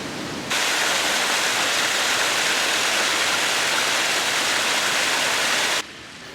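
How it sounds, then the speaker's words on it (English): Fast-flowing, noisy mountain stream in the Scottish hills, a loud, steady broadband rush of water that starts abruptly, holds constant close by and drops off sharply near the end. "we're actually at the side of this water that's coming down, so it's quite fast flowing and noisy"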